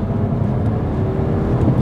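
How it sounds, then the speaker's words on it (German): Skoda Scala three-cylinder engine accelerating from inside the car, a steady, rumbly low drone with a slight rise, heard alone and fairly loud throughout. "Ihr hört es, es ist ein Dreizylinder."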